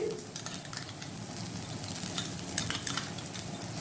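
Whisked yogurt being stirred into mutton curry in a pot on low heat, soft continuous scraping and gentle sizzling, fairly quiet and close.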